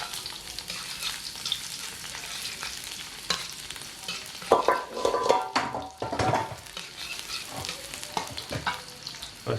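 Garlic and shallots frying in a pan for an Indonesian home-cooked meal, a steady close sizzle with intermittent stirring scrapes and clinks of a utensil against the pan, louder bursts midway.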